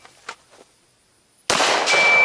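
Pistol fired during a church defense drill, one loud sharp report that cuts in after faint voices and lingers as a broad ringing echo.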